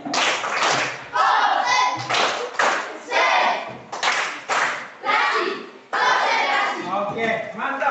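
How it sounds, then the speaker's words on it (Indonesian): A school class doing a rhythmic concentration clap, loud close bursts of many hands clapping in a patterned sequence with short pauses between groups and children's voices mixed in. "Kita tepuk konsentrasi."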